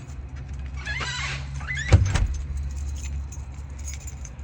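Keys jangle and rattle close up against a truck's frozen door lock, a brief metallic flurry with a sharper clack near the middle, set over a low steady rumble.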